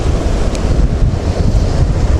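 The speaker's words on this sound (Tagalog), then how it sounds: "Kasi dito, ano, napakalakas ng hangin." Strong wind buffeting the microphone with a heavy, rumbling roar, continuous and loud, with a faint wash of waves underneath.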